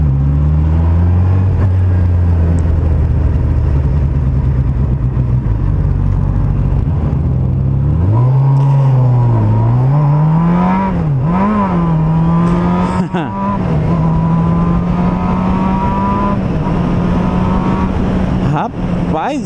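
Honda CBR600F sport motorcycle with an aftermarket sport exhaust, revving loud and close with rising and falling pitch as it accelerates and shifts, plus a steady engine drone.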